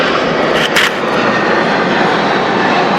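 A fixed-wing airplane passes overhead, a loud, steady broadband engine roar filling the whole span with no break and no talk over it.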